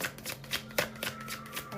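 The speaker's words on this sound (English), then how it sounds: "Just doing a quick shuffle." Tarot cards being shuffled during a live reading, a quick run of soft riffling and slapping card sounds with irregular rhythm, close and fairly quiet.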